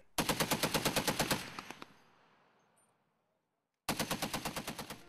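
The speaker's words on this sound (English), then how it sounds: "The result was the machine gun." A machine gun fires a rapid burst of about a dozen evenly spaced, loud shots, followed by a fading echo and silence, then another rapid burst begins.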